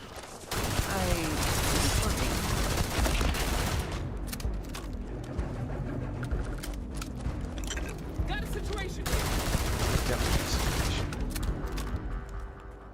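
A weapon fires again and again in the space game Starfield, loud, dense rapid volleys with booming impacts and mechanical clatter through the whole stretch, briefly thinning before resuming.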